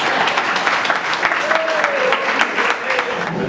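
Guests at a civil wedding ceremony applauding, a dense, steady burst of clapping from a crowd, close and loud, with a faint voice running underneath.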